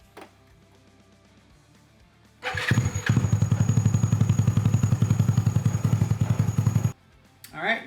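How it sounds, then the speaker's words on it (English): A Honda Ruckus scooter with a GY6 engine and Reveno dry clutch starts after a quiet lead-in, then settles into a loud, rapid, even idle with a clattering dry-clutch rattle before cutting off abruptly. "You'll hear that distinctive Reveno dry clutch sound. Yeah, so let's go ahead and start it up."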